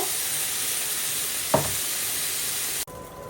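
Singhi fish frying in hot oil, a loud, dense, continuous sizzle close up with a short crackling flare partway through, then cutting abruptly to a quieter hiss.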